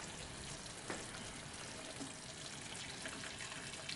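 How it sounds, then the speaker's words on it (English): Water is poured into a pot of brown stew chicken simmering with stock in the sauce, a faint, steady splashing hiss that runs unbroken for a few seconds. "This probably needs a bit more water."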